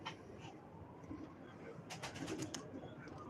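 Faint pigeons coo softly in the distance amid a hiss of background noise, with a few short sharper sounds near the end.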